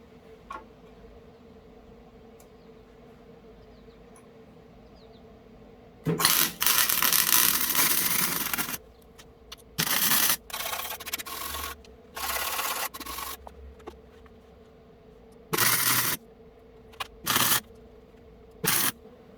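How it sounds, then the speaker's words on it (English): Bursts of arc welding as metal strips are fused onto a lawn mower deck, a long crackling burst followed by several shorter sizzling bursts separated by quiet gaps over a steady low hum. "It's the next day and I'm finally ready to weld."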